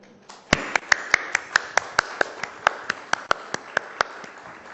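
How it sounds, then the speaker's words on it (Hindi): An audience claps steadily after a boy sings a Ramayana shloka at a televised event, a sparse run of sharp, evenly spaced claps at moderate distance, with no talk over them. "तालियों की गड़गड़ाहट मुझे लगता है और बढ़ सकती है"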